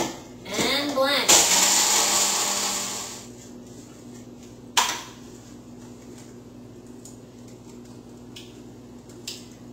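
A Magic Bullet blender whirs loudly through a smoothie with ice for a couple of seconds, then stops, leaving faint clinks and quiet room noise.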